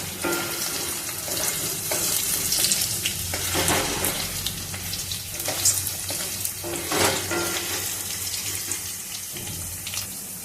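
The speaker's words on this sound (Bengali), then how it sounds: "এবার আমি এই তেলেই আলুটা দিয়ে দেবো। আলুটা একটু লাল করে ভাজতে হবে।" Potatoes fry in hot mustard oil, previously used to crackle chillies, for a vegetarian mixed-vegetable labra, with a loud close sizzle, bubbling and sputtering throughout and bursts of stirring now and then.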